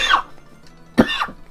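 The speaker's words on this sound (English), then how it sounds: "the cough is still here with me" Two separate coughs from a man with a cold, close and dry, with a short quiet gap between them.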